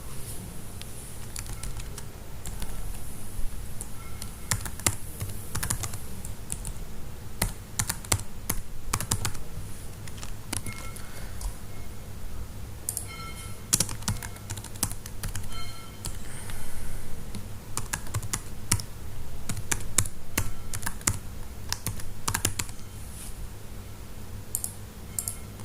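A computer keyboard clatters with steady, close-up typing in quick bursts and short pauses, keys tapping and clicking throughout as code is entered.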